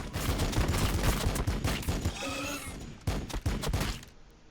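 Rapid bursts of pistol and squad gunfire ring out in the Warhammer 40k Battle Sector battle, loud and dense for about two seconds, then a short pause before a few more shots and a fading tail.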